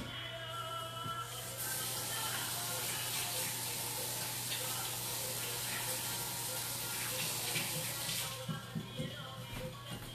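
Tap water runs steadily into a sink for hand washing in a home kitchen, a continuous close splashing hiss with brief rustles at the start and end.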